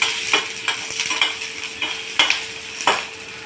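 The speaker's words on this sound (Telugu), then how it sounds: "ఆనియన్ కట్ చేసి వేసేసుకోవాలి. ఆనియన్ లైట్గా ఫ్రై అవ్వాలి." Chopped onion frying lightly in oil in a pan, a constant sizzle with several sharp stirring scrapes spaced irregularly, close and moderately loud.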